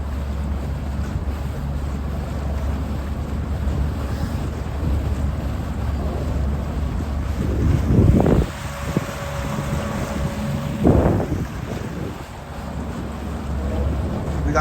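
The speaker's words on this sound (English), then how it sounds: "We got wind from the north today." A north wind blows over choppy water during a New Year club paddle, a steady broadband rush and buffeting on the microphone with a couple of brief louder gusts or splashes.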